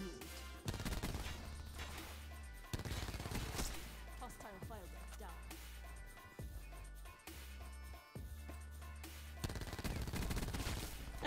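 The Spitfire gun in Black Ops 4 fires in rapid repeated bursts over a steady low game-music bed, shots clustering in several volleys with short gaps, fairly quiet overall.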